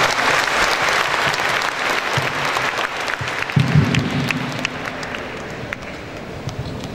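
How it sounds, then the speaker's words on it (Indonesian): Audience applause welcoming Pak Ilham to the stage at a public engineering lecture, the YES Summit 2013: sustained dense clapping from a crowd throughout, swelling briefly midway and then gradually thinning. "Tepuk tangan Pak Ilham."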